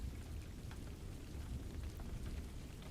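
Rain on a cold day falls in a steady, even hiss with scattered droplet patter, soft and continuous, no voices.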